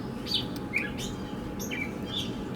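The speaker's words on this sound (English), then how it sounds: "I got a loud bird behind me" A bird calls outdoors in short, high chirps repeated several times, moderately close over steady background noise, near someone working on a 1964 Ford tractor radiator.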